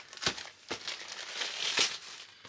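Bubble wrap crinkles and rustles close by while a box is unpacked, with several sharp crackling handling bursts over a couple of seconds and no talking.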